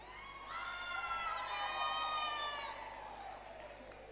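A crowd at a university graduation ceremony cheers and whoops with high-pitched shouts and ululation, loud for about two seconds and then fading.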